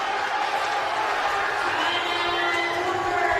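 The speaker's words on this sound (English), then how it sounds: "Crowd is going wild." Crowd cheering loudly at a high school varsity basketball game, a sustained roar of shouts and whoops filling the gym without a break.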